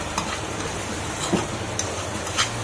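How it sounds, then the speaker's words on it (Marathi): Grated coconut roasting in a pan with semolina for modak filling, a continuous dry sizzle with a few soft stirring scrapes, close and moderately loud. "खोबरं पण भाजायचं चांगलं, म्हणजे टेस्ट लागते चांगली"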